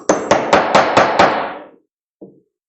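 A tiny hammer whacks a spur into a wood lathe: six sharp, evenly spaced metallic taps ring out up close and fade, followed by one softer knock after a short pause.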